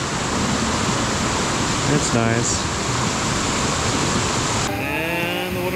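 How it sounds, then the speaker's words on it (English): Small waterfall tumbling in a stream in Cocora Valley, a steady full rush of falling water that stays close and constant throughout, with a brief voice speaking over it. "And just a bit further upstream, there is some more falling water."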